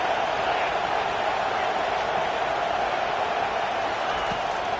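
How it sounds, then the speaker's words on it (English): Dense, steady stadium crowd roar at a college football game fills the air throughout, a continuous wash of many voices without distinct cheers or breaks. "This crowd bringing the energy and noise early."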